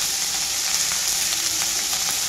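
Tomatoes and green chilies fry in a pan with a steady, close, loud sizzle that holds unbroken throughout, with no voices.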